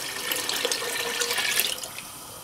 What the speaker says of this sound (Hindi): तो हमें इसमें पानी थोड़ा और डालना होगा।